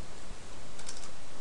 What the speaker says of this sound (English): you either open notepad and type